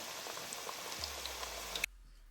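Potato pieces half-fry in hot oil, giving a faint continuous crackling sizzle with tiny pops for most of the clip, then cutting off abruptly near the end, leaving a low hum.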